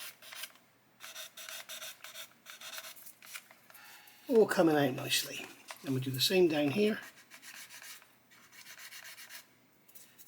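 Rhythmic scratchy rubbing strokes of a clogged sanding stick on an Airfix 1/24 Spitfire Mk.IXc plastic model, steady and close, continuing before, under and after a short stretch of speech.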